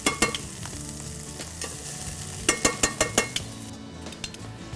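Hatch chilies and onions sizzle steadily in a hot pan, with a few sharp clinks of a utensil against metal scattered through the frying.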